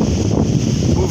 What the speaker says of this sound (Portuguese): O vento aqui não está ajudando